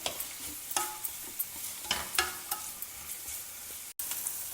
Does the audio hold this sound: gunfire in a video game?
no